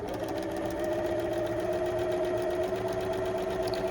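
A sewing machine stitches steadily with a 1/4-inch seam guide on half square triangles for a quilt block, making a continuous close whirring hum with a fast needle rhythm throughout.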